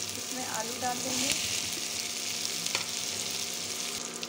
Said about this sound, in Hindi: टमाटर फ्राई हो गया है, इसमें आलू डाल देंगे।